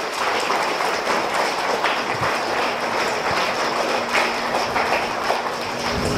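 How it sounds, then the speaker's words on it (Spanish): Sustained applause from a congregation for newlyweds at a wedding mass in the Templo de Santa Teresa in Guanajuato, a dense steady clapping texture filling the church for several seconds without pause. "Les damos un fuerte aplauso."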